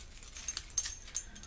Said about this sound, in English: These are my keys.